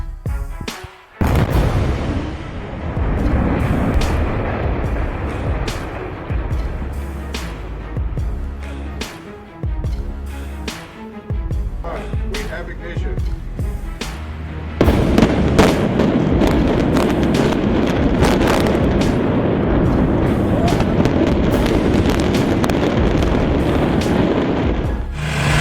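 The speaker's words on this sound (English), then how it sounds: "See a 50-foot, 15-meter high structure turn into a neat pile of rubble." Demolition of a 50-foot, 15-meter concrete and steel structure collapsing in daylight, heard as a long run of loud, heavy booms, crashes and rumbling debris that swells sharply partway through and stays dense to the end.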